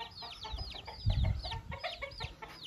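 Young chickens cheep and cluck busily in a quick, overlapping chorus, close by, with a low rustle underneath.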